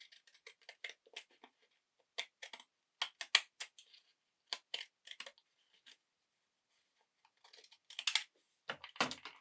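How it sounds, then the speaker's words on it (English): Decorative decollage scissors snip through paper for a folio craft project in a run of quick, crisp cuts with short pauses between them, close and fairly quiet, with no talk. "I will use my decollage scissors just to kind of match up that edge a little"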